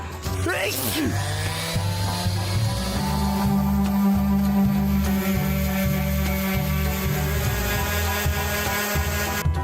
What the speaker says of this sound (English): The round sander didn't get to the corners,